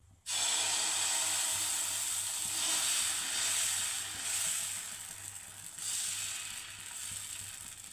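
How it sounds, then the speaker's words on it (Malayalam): Egg dosa batter hits a hot stone griddle with a sudden close sizzle that starts abruptly and carries on as a steady, bright hiss, swelling slightly in places, with nobody speaking. "ഇനി നമുക്ക് ദോശ ഇടാം അപ്പോൾ കല്ല് ചൂടായിട്ടുണ്ട്"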